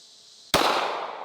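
A single sharp 9mm semi-automatic handgun shot firing a 147 grain jacketed hollow point, a loud close crack after brief quiet, with a long, fading outdoor echo.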